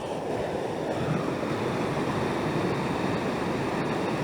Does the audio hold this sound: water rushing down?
yes